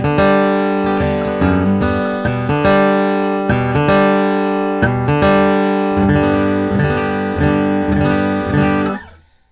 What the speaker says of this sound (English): we'll start out with the 3/4 time G run